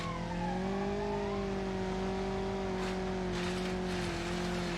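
A car in BeamNG.drive, its engine straining at a steady high rev on an endurance track, holds a sustained droning tone that shifts slightly in pitch, with faint tire noise bursts, loud and continuous.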